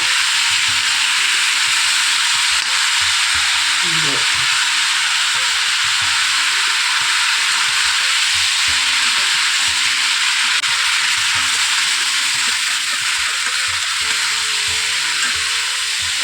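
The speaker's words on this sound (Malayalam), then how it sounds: "പച്ചക്കറിയൊക്കെ നന്നായി ഒന്ന് ഇളക്കി കൊടുക്കണം എല്ലാം ഒന്ന് എണ്ണയ്ക്കേല് നല്ലോണം ഒന്ന് മിക്സ് ചെയ്ത്" Mixed vegetables stir-fried in oil for a vegetable sabzi give off a loud, steady, close sizzle throughout, with a brief scraping stir partway through.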